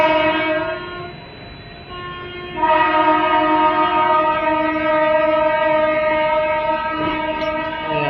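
The Howrah Superfast Express passes with long, loud train-horn blasts nearby, a short drop in volume between the first and second sustained blast, over a continuous rail rumble.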